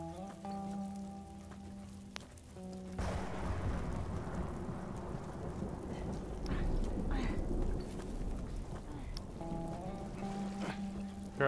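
Steady rain pours in The Last of Us Remastered, a dense wash of downpour with rumbling low thunder, heard beneath game music and scattered sounds.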